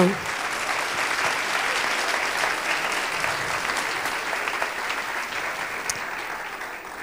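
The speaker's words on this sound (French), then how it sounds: "je crois qu'on peut les applaudir" A seated conference audience applauds the round-table speakers, sustained steady clapping from many people across the whole stretch, with faint murmurs and a few voices mixed in.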